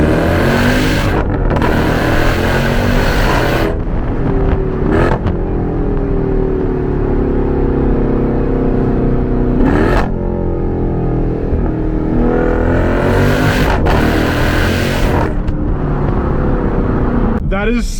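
Supercharged V8 Jeep Grand Cherokee Trackhawk with all-wheel drive pulling hard, a loud close engine roar rising through the gears with brief shift breaks, under excited talk.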